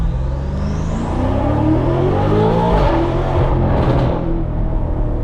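A BMW F90 M5 Competition pulls hard under full throttle from inside the cabin, a loud, steady engine roar climbing in pitch over several seconds with a dense low rumble throughout, no talk.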